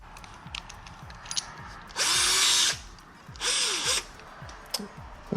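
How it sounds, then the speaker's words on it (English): Power drill boring a 3/8-inch hole through a Can-Am Ryker motorcycle panel, two loud sustained whirring bursts of about a second each separated by a short pause, close up with light handling noise between. "Okay, so I have my drill right here."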